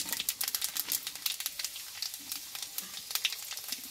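Dried red chilies, a bay leaf, cinnamon and panch phoron sizzle and crackle in hot oil with dense, steady popping and spattering up close, loud and continuous throughout.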